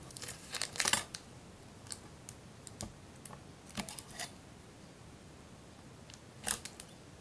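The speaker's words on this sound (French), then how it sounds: "On va couper vraiment un minuscule morceau." A tiny piece of Fimo polymer clay is cut while sculpting an octopus, giving soft, scattered clicks and taps up close with quiet gaps between them and no voices.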